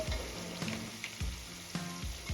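Ginger garlic paste and spices frying in a pan for Maharashtrian masale bhat, a close, dense sizzle broken by a few sharp spoon scrapes against the pan, no voices.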